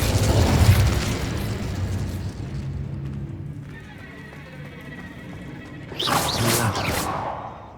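An Incendio fire spell in Hogwarts Legacy, cast in a spider-haunted underground passage: a loud rumbling burst, a quieter humming stretch, then a sharp crackling, bright flare of flame near the end.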